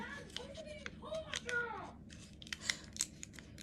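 Scissors snip bacon in several quick cuts with crinkly cutting sounds close by, with a voice chattering in the background.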